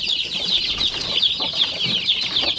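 Shamo chicks chirp and peep in a continuous high-pitched chorus at feeding time, close and busy, with soft scratching and pecking beneath.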